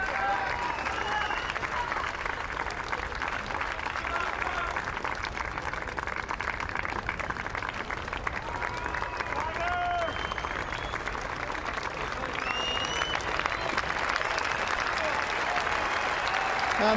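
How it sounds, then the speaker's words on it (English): Stadium crowd at The Open golf championship, Royal Liverpool 2006, cheering and applauding steadily as the winning golfer walks through, a dense, continuous roar of clapping from the stands with scattered whistles and shouts. "listen to the cheer when he walks through, and the public in the stands see him"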